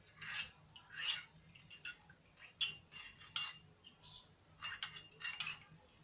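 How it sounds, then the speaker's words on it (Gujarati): A spoon stirring spice masala into a glass of chilled buttermilk: a run of separate soft metallic clinks and scrapes against the glass, close and fairly quiet, spaced irregularly with brief silences between. "મસાલો એડ કરીને આપણે સરસ રીતે એને મિક્સ કરી લઈશું"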